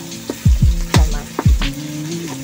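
Tomatoes fry in a pan, with sharp sizzles and stirring scrapes that come in several quick bursts and then ease into a lower, steady crackle close by.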